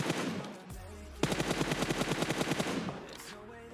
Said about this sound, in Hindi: इतने में भाई पीछे से ही फायर आने लग जाता है।